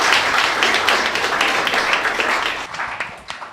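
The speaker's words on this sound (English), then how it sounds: "Give yourselves a round of applause." An audience at an Adelaide climate election candidates forum claps in a dense burst of applause that fills the room, then thins into scattered individual claps as it dies away.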